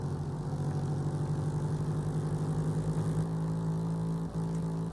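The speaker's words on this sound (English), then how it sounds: "As you can hear, this 4-stroke kart pretty much flat out." A 4-stroke racing kart engine held at full throttle during an OKL Africa kart race in Mozambique, a steady, loud, buzzing drone with a fixed pitch that barely wavers, close by, no talk.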